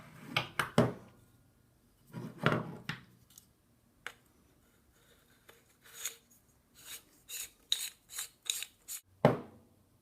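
Clicks, scrapes and metallic rattles of a LAW Tactical Generation 3 folding stock adapter being fitted onto a rifle, coming in irregular bursts with quiet gaps, close and moderately loud, no voices.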